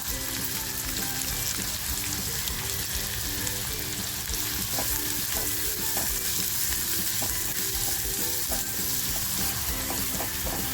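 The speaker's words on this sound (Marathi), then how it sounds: "आपलं तेल छान तापलं आहे कांदा जो कापून घेतला आहे तो कांदा टाकते" Chopped onion fries in hot oil in a small pan, a dense, even crackling sizzle that runs steadily throughout with no voices.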